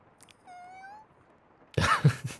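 A voice imitates a cat's meow with one drawn-out, rising and falling tone, followed after a short pause by a louder burst of vocal noise.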